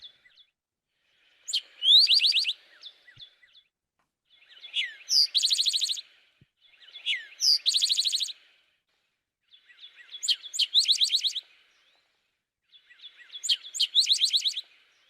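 Recorded songbird calls play back in five separate bursts of high, rapid chirps and twittering phrases, each lasting about a second or two, with clean silence between them.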